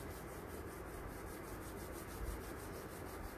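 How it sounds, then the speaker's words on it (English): Palms rub together gently and steadily during a yoga breathing session, a faint, continuous soft swishing friction with no talk. "Gently rub your palms"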